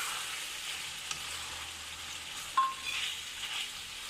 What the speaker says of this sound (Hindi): इन्हें 2-3 मिनट के लिए फ्राई करेंगे।